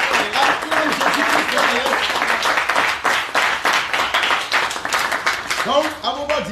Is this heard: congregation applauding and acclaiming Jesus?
yes